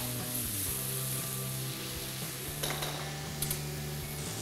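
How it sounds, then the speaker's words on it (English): Powdered coriander, chilli and pepper masala being stirred in a frying pan, a soft continuous scraping and faint sizzle with a couple of light metallic clinks of the utensil against the pan. "Give it a mix."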